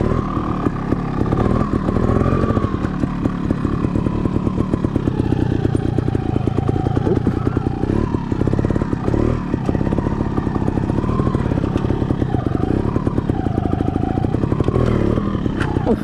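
A dirt bike engine runs continuously on a trail, close and loud, its buzzing drone rising and dipping with the throttle as the bike clatters over rough ground.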